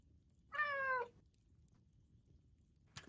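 A single clear cat meow, close and moderately loud, rises out of quiet room noise, with a brief click near the end.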